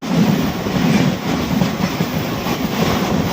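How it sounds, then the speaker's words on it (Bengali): Loud, steady rumble from inside the moving Vibhuti Express passenger train as it pulls out of Dildarnagar Junction, with a continuous rolling clatter of wheels on track and no speech. "এই মুহূর্তে আমাদের ট্রেন ছাড়লো দিলদার নাগার জাংশন থেকে।"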